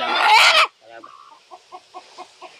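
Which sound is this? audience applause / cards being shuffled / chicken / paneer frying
chicken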